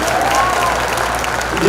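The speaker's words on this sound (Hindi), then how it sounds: "जोरदार उनके लिए एक बार तालियां हो जाती हैं।" Audience at an international youth poetry mushaira breaks into steady applause, a dense wash of clapping with crowd noise throughout.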